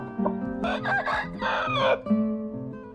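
A rooster crows nearby, a loud, ragged cock-a-doodle-doo rising and breaking over a few seconds, with some low background sound underneath.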